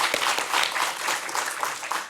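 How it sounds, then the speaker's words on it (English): A moot court competition audience at a final match and awards ceremony gives dense, steady applause, a sustained wash of many hands clapping together. "So once again, just a round of applause for everybody."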